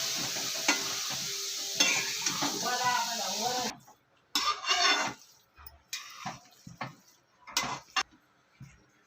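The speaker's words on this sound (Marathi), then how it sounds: "एकत्र मिक्स करून घ्यायचे" Paneer bhurji being stirred and mixed in a pan: a soft sizzle with spoon scraping at first, then sparse, irregular clacks and scrapes against the pan, fairly quiet and close.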